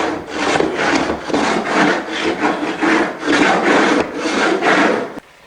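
Steady scraping of a floor scraper across a rough floor, loosening stuck debris, in repeated rasping strokes at a regular rhythm, close and fairly loud with no talk.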